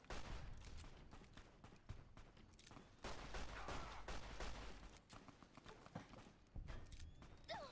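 Gunfire in Fallout: New Vegas, a steady run of dense shots and impacts, fairly quiet and continuous, with no talking over it.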